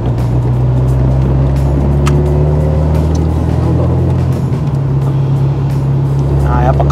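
A Nissan Skyline R33 GT-R with a near-stock engine and standard camshafts idles close by, giving a steady, continuous low rumble that holds evenly throughout with no revving.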